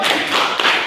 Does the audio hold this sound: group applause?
yes